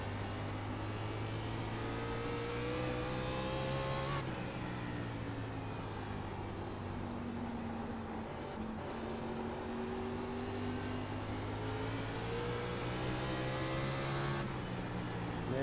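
Race car engines in the sim racing game iRacing, a steady near engine drone with rising gear-by-gear pitch sweeps and abrupt shifts, continuous throughout with no talk.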